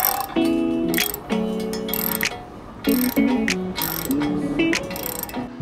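A 24mm socket wrench tightening the nut on a ground anchor bolt, heard as several bursts of rapid ratcheting clicks close up, separated by short pauses.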